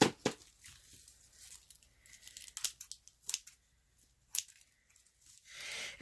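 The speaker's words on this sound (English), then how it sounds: "take the ends like this and snip through them on both of these ends" Small scissors snip through the ends of paper straw ribbon in a few sharp, close cuts spaced irregularly, with light paper rustling between them.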